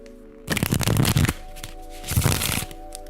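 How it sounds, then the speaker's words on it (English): A deck of cards being bridge-shuffled: a loud, dense riffle burst for about a second, a pause, then a shorter second riffle, all close up over a low background hum. "like if I shuffle this with a bridge"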